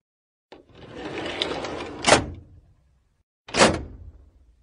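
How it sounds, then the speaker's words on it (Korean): A pulled-out drawer slides shut, a long scraping glide ending in a sharp thump, followed after a short pause by a second quick slide and bump, close and clear with nothing else around. "꺼낸 서랍을 닫는 소리입니다"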